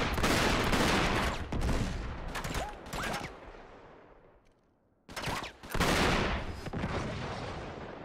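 Gunfire from a weapon in Uncharted 3 in loud, dense bursts that rattle on for several seconds, drop into a brief near-silent gap, then erupt again in heavy volleys close at hand.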